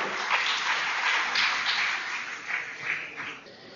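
Audience applause welcoming a speaker at an indoor talk on Swadeshi medicine, soft scattered clapping that swells and fades over a few seconds, fairly distant and alone.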